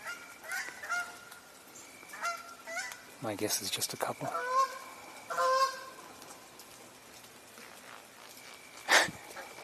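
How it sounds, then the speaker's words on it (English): Geese honk in scattered bursts outdoors, several calls overlapping at moderate distance, with a person speaking quietly between the calls. "more geese by the sound of it."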